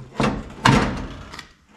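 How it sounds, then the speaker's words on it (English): A car door on a 1959 Dodge Coronet being reassembled is shut lightly, two quick thuds close by with a brief latch click after them. "So let's go ahead and shut the door rather lightly."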